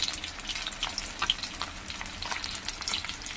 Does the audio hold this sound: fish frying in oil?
yes